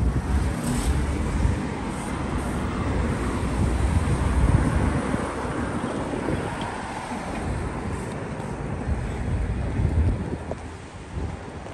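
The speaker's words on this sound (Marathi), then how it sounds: "गाड्या जात आहे ना." Cars passing on a clean city road in China make a steady traffic roar with gentle swells as vehicles go by, mixed with wind buffeting the microphone, continuous and moderately loud without talk.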